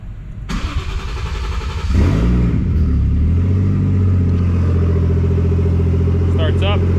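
A Toyota JZX100 fires up after a fuel pump install: a brief starter crank, then the engine catches with a rising surge and settles into a loud, steady idle, close by, with a person speaking briefly near the end.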